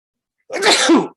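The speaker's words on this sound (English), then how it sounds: "So, I got to sneeze." A single loud sneeze bursts out after a short silence, close and sharp, then stops.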